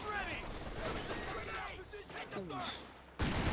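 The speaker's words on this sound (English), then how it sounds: "we got 50 cal fire there to the Grenadiers" Rattling .50 cal machine gun fire in the Company of Heroes 2 strategy game, faint and distant, set among other battle noise beneath a commentator's talk.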